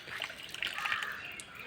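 Very cold water runs and splashes steadily at a village house, a continuous close trickle and slosh with no voices.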